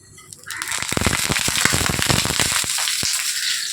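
Nigella seeds land in hot oil in a frying pan and burst into a loud, close sizzle, with sharp crackling pops throughout a steady hiss that lasts to the end.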